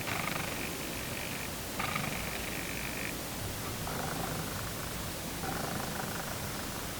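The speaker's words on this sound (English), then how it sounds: "our camera's built-in microphone did pick up a slight purring sound from both of these lenses" A faint, steady mechanical purr from an 85mm lens autofocus motor, picked up by a camera's built-in microphone, rises and falls in short stretches over a constant hiss of background noise, with no voices.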